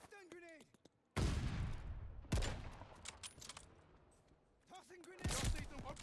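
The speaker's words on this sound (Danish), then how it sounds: "Der er nogen, der skyder herovre, det kan jeg høre." Gunfire in Call of Duty: Vanguard, a WW2 shooter, with sharp loud bursts near the start and again near the end and a noisy battle din between them, and a voice talking briefly at the opening and close.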